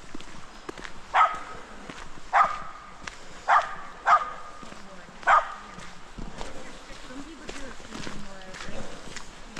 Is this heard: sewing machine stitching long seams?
no